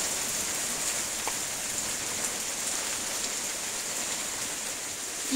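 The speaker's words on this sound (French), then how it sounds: "il pleut beaucoup" Heavy rain from a storm falls in a steady, dense roar of droplets, close and unbroken throughout, with no voices.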